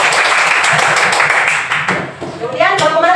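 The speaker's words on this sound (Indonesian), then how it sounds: "Coba, tepuk tangan dulu untuk kelompok" In a classroom lesson, students clap for a group, a loud, close burst of dense hand clapping that thins and dips midway, then a voice speaks over the last of the clapping.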